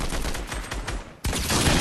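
Combat Assault Rifle fire in a video game: rapid, rhythmic bursts of close, loud gunshots, a brief pause, then a dense continuous volley resuming.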